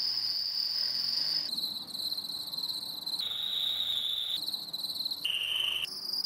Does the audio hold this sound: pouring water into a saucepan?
no